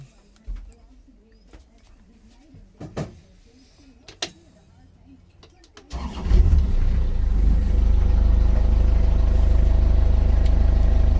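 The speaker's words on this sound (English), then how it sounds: "so we'll just get the engine started." A sailboat's engine starts after a few seconds of quiet clicks and birdsong, then settles into a loud, steady low rumble with deep throbbing that runs to the end.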